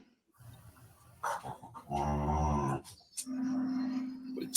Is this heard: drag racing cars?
no